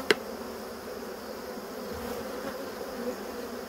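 A swarm of bees around a hive makes a steady, close buzzing hum, opening with a short sharp knock, then an unbroken drone throughout.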